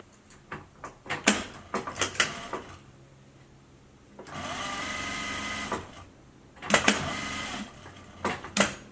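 Close-up handling clicks and taps surround a short, even run of a sewing machine stitching a fabric face mask, lasting about a second and a half before more sharp clatter of adjusting the work.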